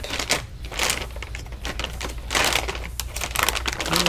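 RTX graphics card packaging with electrostatic tape pulled open up close, giving a continuous loud crinkling, crackling rustle with sharp peeling bursts, no voices.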